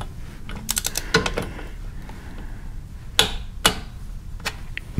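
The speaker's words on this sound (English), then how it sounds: "Torque wrench set to 19 foot-pounds." On a Harley-Davidson Twin Cam Touring, a torque wrench set to 19 foot-pounds tightens the oil drain plug, giving a few sharp mechanical clicks and ticks among quieter handling noise, close up and with no talking.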